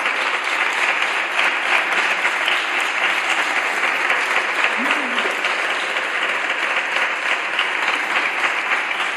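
Sustained, loud applause from members of the Spanish Congress chamber, a thick, unbroken roar of many hands clapping for several seconds with a faint voice briefly emerging beneath it.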